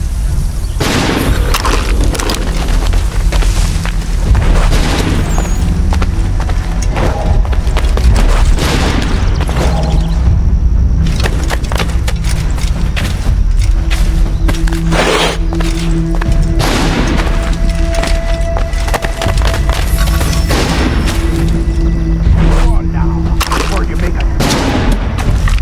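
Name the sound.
gunshots from the video game Assassin's Creed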